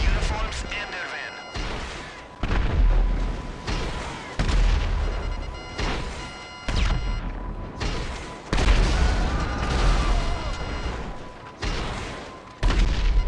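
Missiles blast around sewage tanks in GTA 5 Online, a string of heavy booming explosions roughly every second or two. Each one thumps with low-end weight and decays fast, and a voice talks between the blasts.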